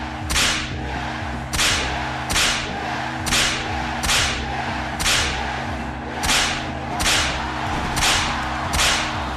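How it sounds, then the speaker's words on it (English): Whip lashes crack sharply and loudly in a steady series of about ten strikes, each roughly a second apart, over a low background hum. "There were loud yells of agreement as the whip fell again."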